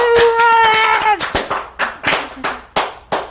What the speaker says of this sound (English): let's hear that applause machine again